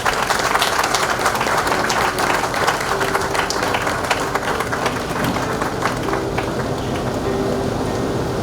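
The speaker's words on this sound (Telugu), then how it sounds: "వాళ్ళ కోసం ఒకసారి చప్పట్లు కొడదామండి." An audience at a memorial gathering applauds loudly and continuously, many hands clapping in a dense, even roar for several seconds with no break.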